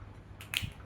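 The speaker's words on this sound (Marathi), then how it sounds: "चुटकी वाजा ना." A single crisp finger snap, close and faint against quiet background, occurring midway through a brief pause in a sermon.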